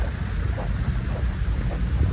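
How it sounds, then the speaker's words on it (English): Steady wind buffeting the microphone outdoors in Yakutsk in December at about -55 C, a constant low rumble with gusty swells throughout, no voices. "it's nice, very windy."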